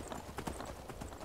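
Horse hooves clip-clop quickly and steadily in a video game, as a short run of close, even hoofbeats over faint background game sound.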